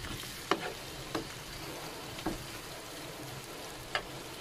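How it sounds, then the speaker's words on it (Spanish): Chopped onion frying in a pan, a low steady sizzle with four faint sharp clicks of a utensil against the pan spaced through the clip, with no voices. "Aquí ya estamos friendo la cebollita."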